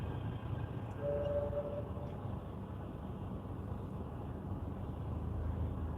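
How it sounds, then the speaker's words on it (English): Tram passing along a street at night in Wigan, a steady low rumble with a brief faint squeal near the start, heard from a moving car amid continuous road noise. "And there's the tram."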